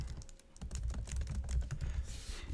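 Rapid typing on a computer keyboard while designing a website, with a steady run of close, crisp key clicks and no voices.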